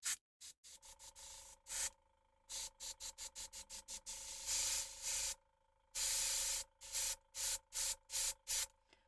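An airbrush fires in short hissing bursts, some quick and evenly spaced, others held for a second or more, with silent gaps between them and a faint steady tone underneath.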